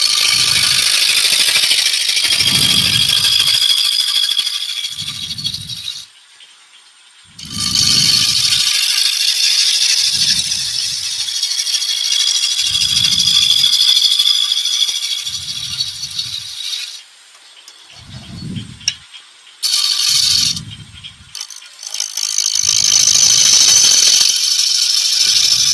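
Wood spins on a lathe as a roughing gouge shapes it, a close, continuous scraping rasp broken by short pauses, with a low rhythmic thump from the rotating workpiece underneath.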